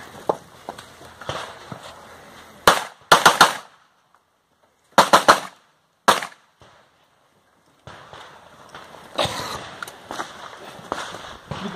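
Gunshots from a pistol caliber carbine at an outdoor sportsman's shooting range, fired in two quick bursts of three shots followed by a single shot. The reports are loud and sharp, with faint background chatter between them.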